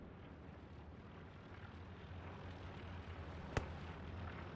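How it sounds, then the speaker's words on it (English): A recon plane flies over in Squad on the Hill 400 map, its steady engine drone holding a constant broad rumble with one brief sharp crack near the end. "Recon plane coming over."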